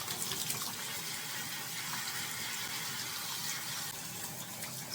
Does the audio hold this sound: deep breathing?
no